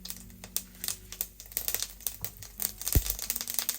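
Mustard seeds crackle and pop in hot oil for a Mangalorean fish curry, a close run of sharp, irregular spits and ticks with one brief low thump near the end.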